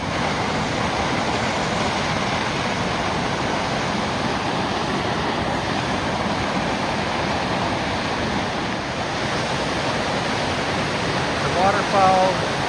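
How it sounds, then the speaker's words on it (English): Falling Springs Falls, a waterfall over 80 feet tall in Alleghany County, Virginia, roars as a steady, dense rush of falling water, loud and continuous throughout, swollen by recent rain and snow. "You can hear the waterfalls in the background as we approach them"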